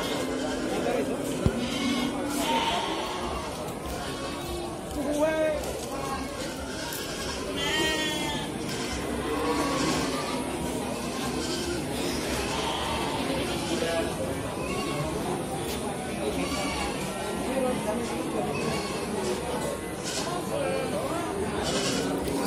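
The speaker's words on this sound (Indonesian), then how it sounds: "Selain di tadi di sebelah sana ada juga domba merino yang ada di sebelah sini teman-teman." Merino sheep bleat repeatedly amid a busy livestock market crowd, the calls mid-distance and steady over constant background chatter and people talking.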